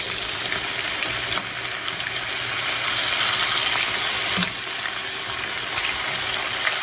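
Big tomahawk cowboy pork chops deep frying in hot oil give a loud, steady, close hiss and crackle, with a faint clunk as they are turned over partway through.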